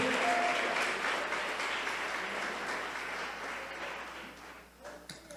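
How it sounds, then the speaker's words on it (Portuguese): A crowd applauds loudly, steady clapping that gradually thins and fades toward the end. "Dê um aplauso a Jesus por isso."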